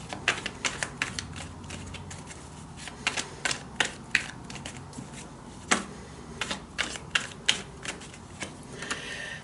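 Tarot cards handled and shuffled up close, giving a quick series of sharp slaps and riffles in uneven bursts over a low room noise, with no voices.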